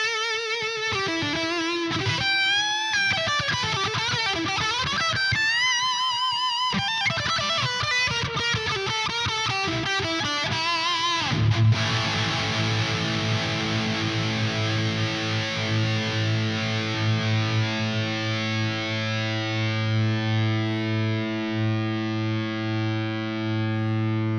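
Distorted electric guitar played through an amp with reverb and ambience, a fast melodic run followed by a sustained, ringing chord that slowly fades.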